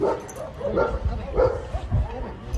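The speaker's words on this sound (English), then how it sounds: "You hear all them dogs" Several dogs bark and yip in short bursts, with whimpers mixed in, fairly close and moderately loud.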